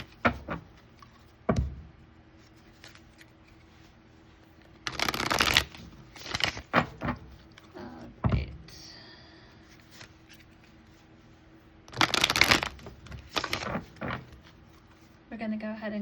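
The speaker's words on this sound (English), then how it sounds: "Just going to give these cards a little shuffle before we start." Bursts of cards being riffled and shuffled, a few sharp flutters separated by quieter handling sounds and faint room noise.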